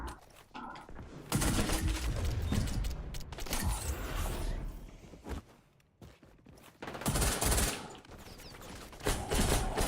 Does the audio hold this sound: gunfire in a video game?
yes